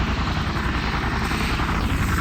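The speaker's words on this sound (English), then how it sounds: "we're flying a helicopter" A helicopter in the Minecraft Flan's Mod game flies with a constant dense whirring rotor and engine roar, loud and unchanging across the short stretch, with no speech over it.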